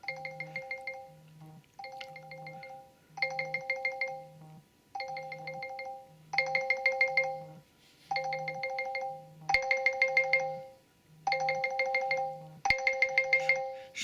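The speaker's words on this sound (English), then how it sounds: "It's ringing." Alarm ringtone on a Google Pixel 6a phone, a repeating melodic chime pattern with a low pulsing tone underneath, sounding in regular bursts about every 1.5 seconds and growing slightly louder, with no talking.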